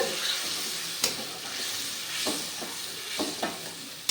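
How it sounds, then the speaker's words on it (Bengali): Spiced oil sizzles steadily in a pan as water goes in for a katla fish curry, a continuous near frying hiss broken by a few sharp stirring scrapes and spatters. "আমি জল দিয়ে দিচ্ছি এটা একটু গা মাখা গা মাখা হবে তো তাই বেশি জল দেব না"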